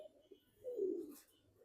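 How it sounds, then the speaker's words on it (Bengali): A domestic pigeon gives a single low, soft coo, close but faint, in a quiet setting with no talk. "এই একটা বাড়ির লাগানো কবুতর"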